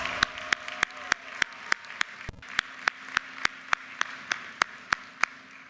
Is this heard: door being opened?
no